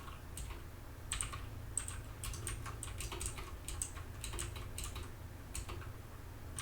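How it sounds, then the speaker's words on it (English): Quiet, rapid keystrokes patter on a computer keyboard in uneven bursts and short clusters of clicks, heard close over a low background hum. "I cannot type for the life of me today."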